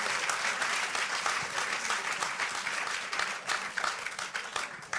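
An audience at a film screening applauds its guests, including the director of a documentary on Tunisian Jews, in a full, sustained round of clapping that stays strong throughout and thins slightly near the end.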